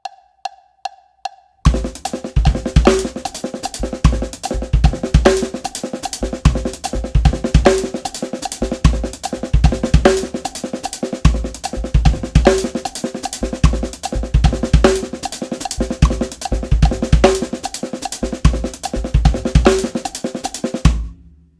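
Full-speed linear drum kit groove, the B phrase of a blues-jam pattern, played as continuous dense sixteenth-note strokes that switch between kick, snare and cymbals for about twenty seconds, loud and close, after a few soft clicks at the start.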